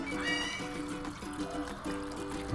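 Water poured into a pot of beef caldereta while cooking, a steady gurgling trickle of liquid filling the pot, moderately loud and continuous with no talk over it.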